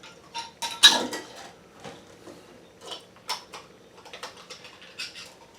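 Lids being put onto jars of cherry moonshine, a series of light clinks, ticks and twisting taps in an irregular rhythm, close and fairly quiet, with no speech.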